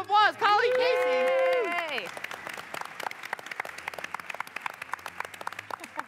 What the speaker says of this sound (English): Big round of applause, Colleen Casey.